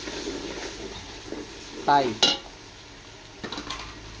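Rice and vegetables for a vegetable biryani being stirred in a large cooking pot, with soft scraping and a sizzle plus a couple of sharp metallic clanks; a voice speaks briefly.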